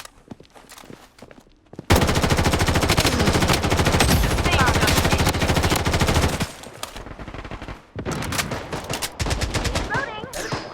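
Sustained automatic gunfire in a Blood Strike firefight, dense rapid bursts loud and continuous for several seconds, a brief pause, then renewed firing, with some game voice callouts mixed in.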